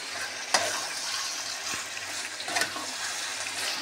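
Poppy seed paste is stirred into potatoes and snake gourd cooking in a pan, giving a soft, steady sizzle with a couple of sharper spoon scrapes, faint and without talk.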